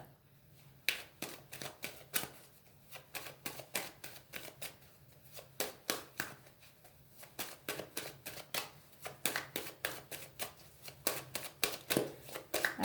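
A deck of oracle cards is shuffled by hand in a long run of crisp riffling flicks, some rapid and others spaced out, close and fairly quiet with no talking.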